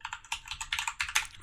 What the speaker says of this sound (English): we're going to type the name of our inputs